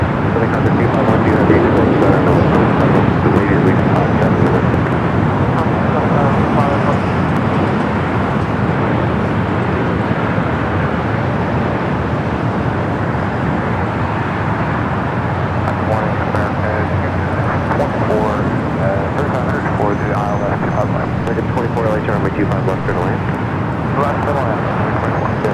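A United Dreamliner arriving from Hong Kong at LAX rumbles as a steady, broad jet roar throughout, with airport ambience and voices talking over it.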